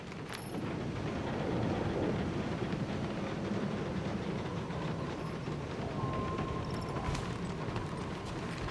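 Rain falls on the planet Seknarf 9 in the Guardians of the Galaxy video game, a steady dense hiss with a low rumbling undertone that holds evenly for nearly nine seconds, with no voices.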